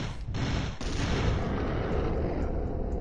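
Enemy gunfire in the video game Turok, a dense, loud, continuous barrage of shots that briefly cuts out near the start before resuming and rolling on without a break.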